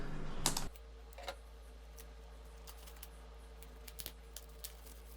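Scissors cut open the plastic packaging of a REMAX RP1 voice recorder: a short burst of cutting and rustling up close, then quiet, with faint scattered clicks and snips.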